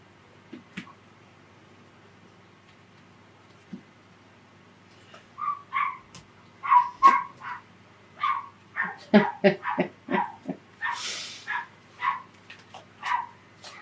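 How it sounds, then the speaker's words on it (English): A small, yippy dog barks outside a window beside a nature path, with a few faint yips at first. These grow into a long run of sharp, repeated barks, moderately distant, with no talking. "There's a nature path right outside my window. So somebody's dog is out there."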